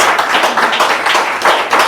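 An audience claps together in dense, steady applause that fills the room, loud and sustained for a couple of seconds, with no clear voices over it.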